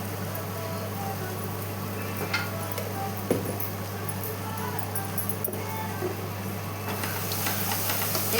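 Chilli and turmeric powder being stirred into mutton gravy in a pan, a continuous close hiss and sizzle with scraping stirs over a steady low hum.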